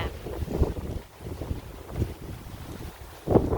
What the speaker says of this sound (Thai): ลมแรงค่ะลมแรง